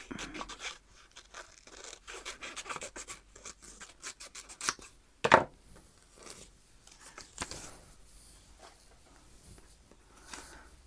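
Scissors snip out a rough paper goldfinch shape for a glue book, a run of quick close crisp cuts with short pauses and one sharper snap midway.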